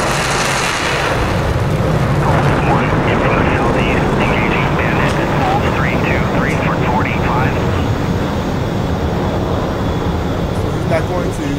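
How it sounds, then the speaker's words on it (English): A jet waiting and taxiing toward the runway in the DCS World flight simulator: a steady, loud engine roar that continues without a break, with faint radio-like chatter in the background. "taxi to runway."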